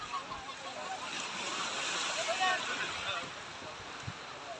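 Waves at high tide wash onto Boracay beach in a continuous, fairly close hiss of surf with light wind noise and a few faint low knocks.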